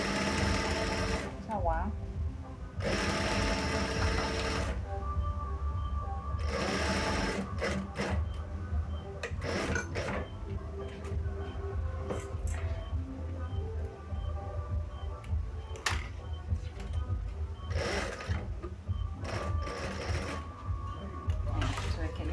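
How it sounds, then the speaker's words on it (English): A sewing machine stitches a sling bag at a 0.5 cm seam allowance, running in steady bursts with short pauses between them, with a person talking over much of the machine noise. "And then now we sew."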